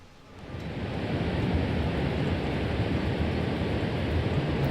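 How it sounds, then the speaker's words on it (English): A waterfall in The Banner Saga 2 gives off a steady, full roar of rushing water that swells in over the first second and then holds as a constant wash, with no voices. "The roar of the approaching waterfall clouds your thoughts."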